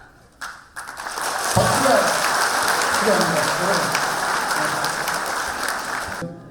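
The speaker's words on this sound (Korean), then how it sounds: "여러분 큰 박수 부탁드립니다" Audience applause at a Vietnam War veterans' compensation seminar in a large National Assembly conference hall breaks out after a short pause and carries on steadily as a dense wash of many hands until it fades at the end.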